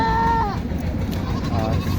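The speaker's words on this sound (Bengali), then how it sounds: "ছাগল" Goats bleat at a crowded rural livestock market, two wavering calls close by, one at the start and another near the end, over a loud murmur of people talking.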